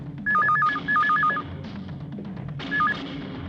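A telephone rings in warbling electronic bursts, two long trills and then a shorter one, fairly clear over faint room noise.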